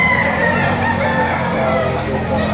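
Roosters crow at a poultry market in Padre Garcia, Batangas, drawn-out calls overlapping amid clucking and dense crowd noise.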